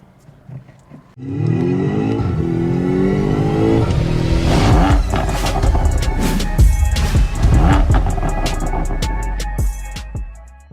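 A Honda Civic Type R FL5 accelerates onto a highway, its engine note rising through the revs close up, with a gear shift and more pulls over road noise before it settles into steady cruising.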